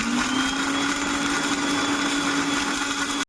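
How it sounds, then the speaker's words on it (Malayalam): A mixer grinder whirs steadily as it blends sugar for a sapota shake, a loud continuous motor drone that holds level and cuts off abruptly at the end. "മിക്സിലേക്കിട്ട് അടിക്കുകയാണ്"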